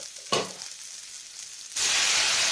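Tomatoes dropped into a hot pan for paneer tikka masala, a quick splash followed by a loud, steady hiss of sizzling oil that swells and holds, close by with no talking.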